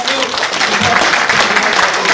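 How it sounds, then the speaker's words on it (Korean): An audience at a debate forum on abolishing lawmakers' privileges at the National Assembly, clapping steadily at close range and filling the whole moment. "박찬종 의원님께도 큰 박수"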